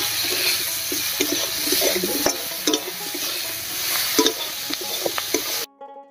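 Raw mango pieces tossed by hand with turmeric and salt give a close, wet, squelchy stirring with scattered clicks against the bowl, continuous until an abrupt stop.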